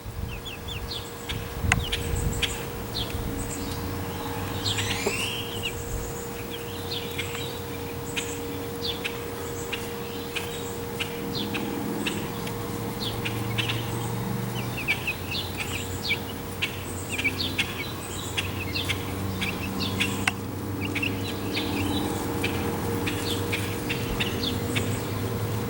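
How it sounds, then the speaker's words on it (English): Free-range chicken pullets in a pen in Dallas, Texas cluck steadily across a busy barnyard, with insects buzzing and a constant low hum underneath. "So there's some of our chickens."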